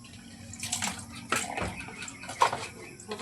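Tap water poured into a basin for washing dishes, splashing in uneven bursts at close range, with faint clinks and a little background voice.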